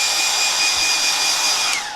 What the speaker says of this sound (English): So I'll just get my hairdryer and dry that.